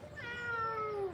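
A Maine Coon cat gives one drawn-out, whining meow that rises and falls in pitch, close and fairly clear, lasting about a second.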